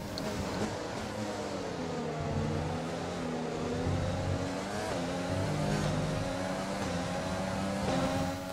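Formula 1 car engine in the racing game F1 2020, pushed for its last power on a final lap while already tiring. It gives a sustained, high-revving whine whose harmonics rise and shift steadily without pause.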